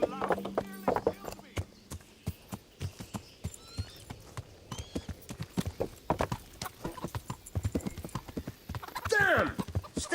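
Rapid, steady clip-clop of horse hooves close up in the video game Kingdom Come: Deliverance, with a brief whinny near the end and people talking over it.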